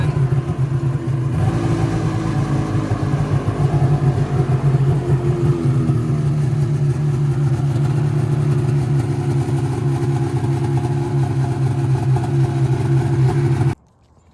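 A Polaris Summit 800 snowmobile engine just fixed after carburetor work runs close by at a fast, steady idle with slight rises in revs, then cuts off abruptly at the end.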